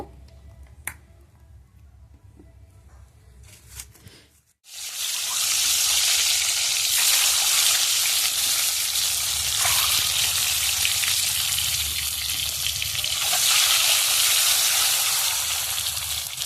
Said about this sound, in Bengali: তেলটা গরম হয়ে যাক, দিলে আমি ডিমগুলো ভেজে নেব